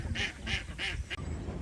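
American Pekin ducks quack in a run of four loud, nasal calls at close range, evenly spaced, with no talking over them.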